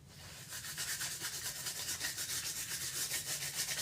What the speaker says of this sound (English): I'm going to take it off my table and just lightly scuff the top,